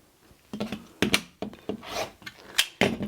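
Quilt fabric pieces are trimmed along a background rectangle in a series of short, close, scraping cutting strokes, irregular bursts separated by brief pauses.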